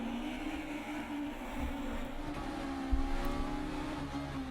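Super 1600 rallycross cars racing at Dreux, a steady engine drone at moderate distance with a sharp knock near the three-second mark, no voices.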